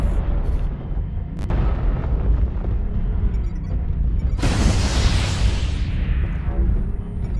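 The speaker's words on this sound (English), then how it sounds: "Airstrike activated." An airstrike in MechWarrior Online lands as a sudden loud blast of booming, rumbling explosions that swells over a few seconds and then fades into a rolling roar.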